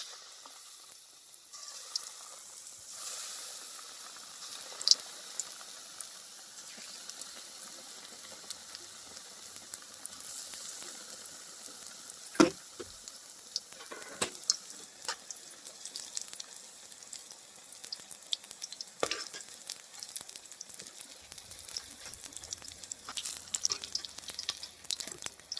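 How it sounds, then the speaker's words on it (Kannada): Ridge gourd bajji dropped into hot oil, a faint, steady sizzle and bubbling with scattered pops and a few louder clinks, heard close with no talking. "ಈಗ ಎಣ್ಣೆ ಕಾದೈತ್ರಿ, ಬೋಂಡ ಬಿಟ್ಟು ತೋರಿಸ್ತೀನಿ ನೋಡ್ರಿ."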